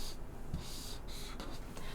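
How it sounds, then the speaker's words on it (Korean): Red pen writing names on paper during a Korean history lesson, a soft close scratching of the pen tip in short strokes, faint and continuous. "사람 이름을 빨강으로 한번 써볼게요"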